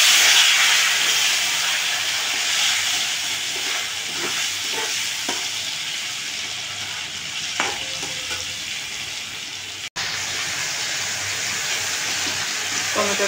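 Tomatoes sizzle and fry in hot oil in a pan, giving a steady loud hiss with occasional stirring clicks nearby and brief talk over it.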